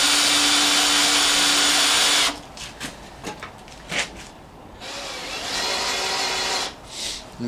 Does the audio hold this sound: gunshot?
no